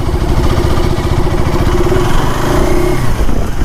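A KTM 390 motorcycle engine runs loud and close, a steady throbbing idle with a slight rise in revs partway through.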